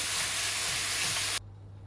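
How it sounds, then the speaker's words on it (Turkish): A steady, loud sizzling hiss of minced meat frying in its own fat and juices in a hot pan that cuts off abruptly near the end, leaving a low hum. "Kıyma kendi yağında, kendi suyuyla yavaş yavaş pişmesi gerekiyor."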